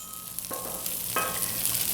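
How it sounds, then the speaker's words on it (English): Close, steady sizzling of onions frying on a hot Blackstone griddle, a crackling hiss with a couple of soft scraping stirs. "Listen to that sizzle."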